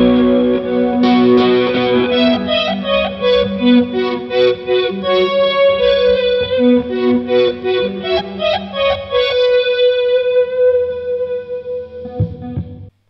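An electric guitar plays through a Korg Pandora Stomp effects preset with a UK 70s amp model and a slow talk-style dynamic filter, giving rhythmic, vowel-like swept chords and riffs, loud and distorted, ending abruptly.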